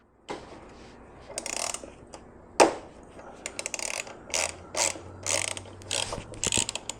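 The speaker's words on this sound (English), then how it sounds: "I removed the 8mm bolt holding on the reservoir" Ratchet clicks in short bursts while an 8mm bolt holding the rear brake reservoir is removed on a Honda NC750X motorcycle, close-up and fairly loud, with a sharp metallic clunk partway through and brief clatters between.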